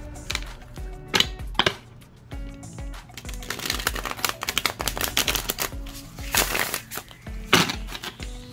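Tarot cards being shuffled up close: rapid crackling riffles and soft slaps in dense bursts, crisp and loud throughout with short pauses between passes.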